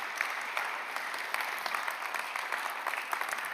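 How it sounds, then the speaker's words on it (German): An audience at a church service applauds to welcome guests to the front, giving a warm, continuous wash of many hands clapping that stays steady throughout. "Und ich dürfte Sie mit einem warmen Applaus willkommen heißen."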